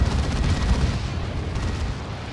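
A Land Raider Redeemer firing its Frag Assault in Warhammer 40k: Dawn of War 2: a heavy, close blast that rolls into a dense rumble, easing off over about two seconds.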